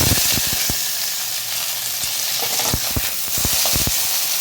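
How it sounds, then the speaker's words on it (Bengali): Okra pieces fry in hot mustard oil, giving a steady close-up sizzle and hiss punctuated by sharp clicks and taps of stirring against the pan. "তেলটা খুব ভালোভাবে গরম হয়ে গেছে। আমি এবার ভেন্ডিগুলো ছেড়ে দিচ্ছি।"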